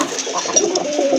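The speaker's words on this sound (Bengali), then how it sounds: "এটা কিন্তু পিওর দেশি কবুতর, পুরান জাতের দেশি কবুতর" Pure native deshi pigeons, a red and white pair offered for sale, give a short, close, soft bubbling coo with no talking.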